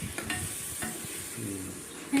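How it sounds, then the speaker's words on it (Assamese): Paneer frying and being stirred in a pan in a restaurant kitchen in Chamba, with a steady close sizzle and repeated scraping stirs throughout, no voices. "এতিয়া পনীৰ বনাই আছে"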